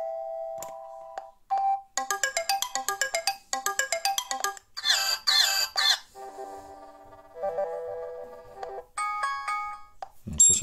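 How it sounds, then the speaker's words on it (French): Alarm and ringtone melodies from a GOME U7 smartphone, a series of loud beeping and chiming electronic patterns in rapid repeated bursts, changing tunes several times with brief pauses between them. "ça c'est plus l'alarme"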